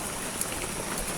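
Steady rain falls outdoors at Dewi Lipa during a holiday outing, a continuous soft hiss of drops on surfaces with no voices, even and fairly close throughout.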